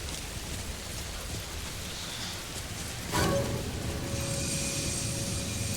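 Steady, dense rain pours in Alan Wake 2 as a continuous hiss, swelling louder for a moment midway and then holding at a constant level.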